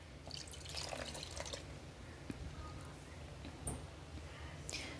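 Milk pours into a green bean casserole mixture of cream of mushroom soup, soy sauce and black pepper, a faint, close trickle and splash of liquid with small dripping sounds.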